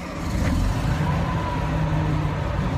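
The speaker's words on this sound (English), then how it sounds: "that's the sound of a mighty 25 horsepower" The 25-horsepower engine of a 1950 Volkswagen Beetle runs after starting, a loud, steady low rumble close by with no talk.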